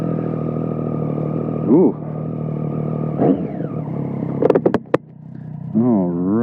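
A Triumph Street Triple 675 motorcycle engine runs at a steady idle, with a few sharp blips and short revs partway through, heard up close while a person briefly exclaims over it.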